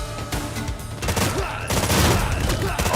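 An explosion in a Street Fighter video game trailer rumbles and crackles loudly in dense, rapid bursts that swell and keep going for several seconds.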